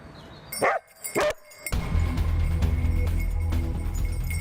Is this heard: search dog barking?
yes